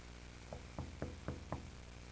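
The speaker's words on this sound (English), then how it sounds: "Knocking on the window." Five evenly spaced knocks rap on a bedroom window late at night, each a sharp, fairly close tap about a quarter second apart over a steady low hum, with no voices.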